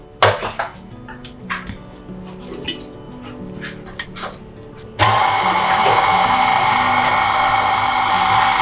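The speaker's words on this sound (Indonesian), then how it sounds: "Bahan kering kita aduk dulu." Dry ingredients for Thai milk bun dough being stirred, with scattered clinks and scrapes of utensil against a bowl for about five seconds before a loud, steady mixer-like whir takes over and runs continuously to the end.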